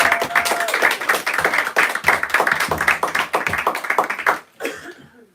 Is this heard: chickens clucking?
no